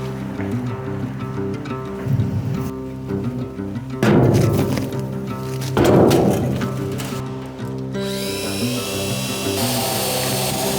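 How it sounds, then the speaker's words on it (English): A power drill whirs steadily, surging in two louder bursts as it bores into material, then winding down to a high whine. "let's drill some holes"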